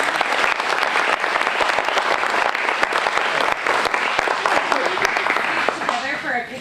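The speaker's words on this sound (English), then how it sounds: "give them all a big round of applause" An audience at an airport grand opening breaks into loud, sustained applause, a dense crackle of many clapping hands that holds steady and fades slightly at the end.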